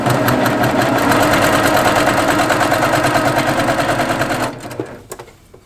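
A sewing machine stitches quilt pieces together in one loud, continuous close-up run of rapid needle strokes, then stops abruptly near the end, leaving a few faint handling clicks.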